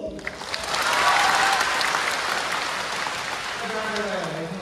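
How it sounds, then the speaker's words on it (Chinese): Audience applause fills a Xiamen crosstalk performance by Deyun She, swelling into a thick, steady roar of clapping that holds for several seconds before easing off under a faint voice. "我听了掌声，好多朋友送给他的啊"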